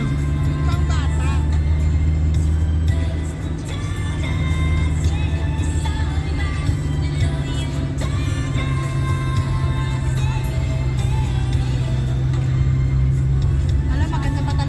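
A car engine labors steadily uphill on the road toward Infanta, with a constant low drone heard from inside the vehicle while people talk over it.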